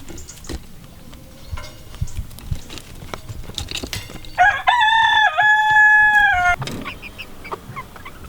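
Rooster crowing loudly and close in a farmyard, one long cock-a-doodle-doo midway, surrounded by scattered clucks and soft scuffling noises of poultry.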